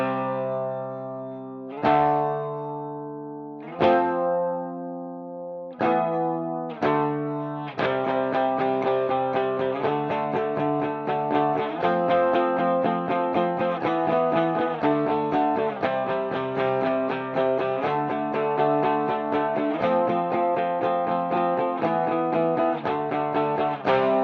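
Electric guitar through an ML Sound Lab ML800 amp sim on a clean reverb-drenched tone: a few sustained ringing chords with pauses, then a steady strummed riff of repeated chords throughout, alone and fairly loud.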